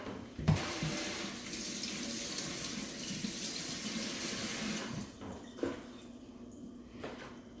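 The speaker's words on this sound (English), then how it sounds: "let me wash my hands real quick" Tap water runs steadily into a sink while hands are washed under it, a close continuous splashing rush that cuts off near the end, followed by a few faint drips and handling clicks.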